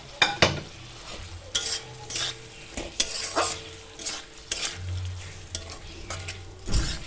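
Fried potatoes are stirred into a paneer masala in a pan. A spatula scrapes and clacks against the pan in intermittent bursts over a low, steady sizzle, close and fairly quiet, with no talking.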